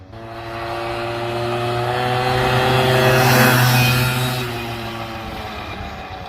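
A 1998 Suzuki LT80 two-stroke ATV engine revs steadily nearby, a buzzy droning tone that swells louder toward the middle and then eases back off, with no voices over it.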